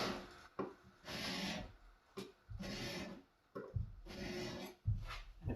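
Scissors drawn across an old Twice As Sharp sharpener to remove the burr, giving four steady rasping, filing strokes separated by short pauses, close and fairly quiet with no talk.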